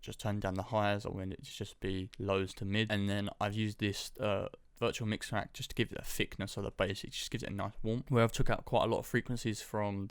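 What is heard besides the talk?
No distinct noise like a dog, phone or traffic.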